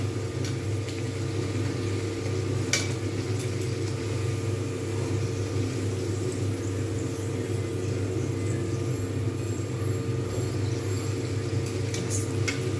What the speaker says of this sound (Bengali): এই রকমভাবে প্রত্যেকটা ভেজে নিতে হবে এপিট ওপিট করে